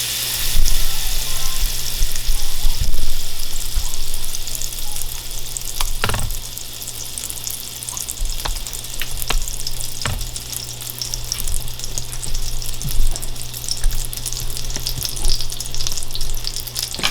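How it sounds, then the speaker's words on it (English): Butter melting in a skillet for a gumbo roux gives a steady close sizzle and crackle for the whole stretch, with a few clinks and scrapes of stirring on top and no talk. "we're going to go ahead and get started with melting our butter"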